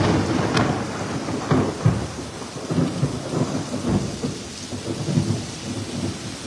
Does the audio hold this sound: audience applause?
no